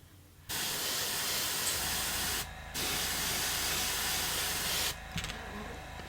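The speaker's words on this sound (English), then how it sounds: "I'm going to kind of rock it like that as I'm spraying it." Steady airbrush hiss spraying paint onto a deep-diver fishing lure in two long bursts with a short pause between, then a brief sputter and a softer continuing spray, close to the mic.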